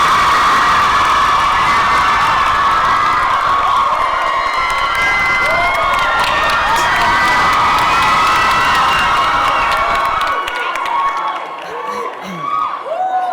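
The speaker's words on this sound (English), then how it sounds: "A warm round of applause, Ms. Nomza Mombata." Loud crowd at a youth expo breaking into sustained applause and cheering, with whoops and shouts carrying on for over ten seconds before thinning out near the end.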